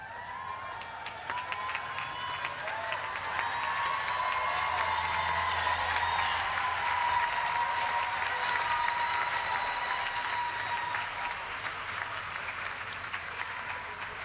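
Sustained audience applause at a university commencement ceremony, a dense, steady wash of many hands clapping in a large hall that holds at full strength for about fourteen seconds, with scattered cheers faintly mixed in.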